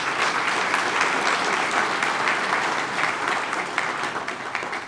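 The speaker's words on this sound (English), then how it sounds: "Let's give Mr. Len Dyke a round of applause." An audience at a California Wrestling Hall of Fame lifetime service awards ceremony applauds steadily, a dense wash of many hands clapping at moderate volume without pause, tapering slightly at the end.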